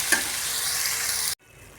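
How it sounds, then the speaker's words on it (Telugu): Green masala paste for an egg curry fries in a pan while being stirred, giving a loud, close, steady sizzle that cuts off abruptly partway through. "ఇలా ఈ విధంగా కలుపుతూ సిమ్లో మంచిగా ఫ్రై చేసుకుందాం."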